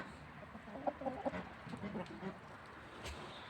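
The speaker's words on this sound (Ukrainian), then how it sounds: "Тут кури вже сюди прийшли." Soft, quiet clucking from a few chickens nearby, in short bursts, with faint outdoor background.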